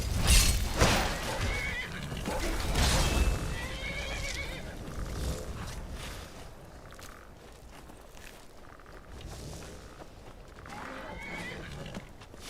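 Horse in the Skyrim video game whinnying loudly in several bursts, with hoofbeats and scuffling in a game scene, and someone talking over parts of it.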